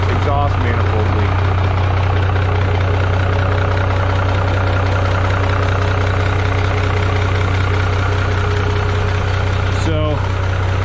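A Minneapolis-Moline G950 tractor engine idles steadily after valve cover work, its low, even rumble running close and loud throughout, with a brief catch near the end.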